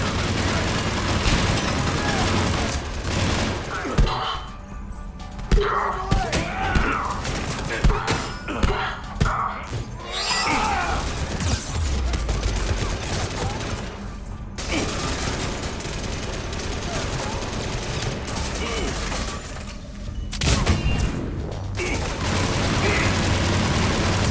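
Combat in the video game Mass Effect 3, with bursts of rapid gunfire, heavy thuds and booms over dense game sound, broken by short lulls, while a voice talks over the action.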